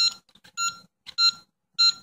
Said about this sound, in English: It beeps like that until you pick the direction you want to flip